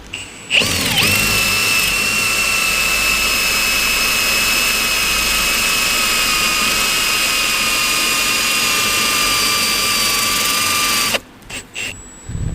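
A loud, steady high-pitched whine of a drill press spinning a left-hand CNC bit and cutting for several seconds, then winding down abruptly near the end.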